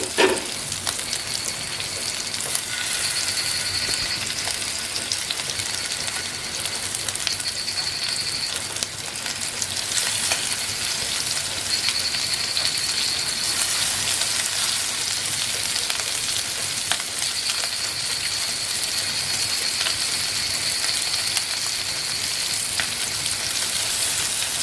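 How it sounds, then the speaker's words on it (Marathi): Freshly caught fish fry in a pan, making a dense, even sizzle that holds steady and close for the whole stretch, with faint scattered clicks and no voices. "इकडे आपण नवीन मासे पण फ्राय करून घेऊ"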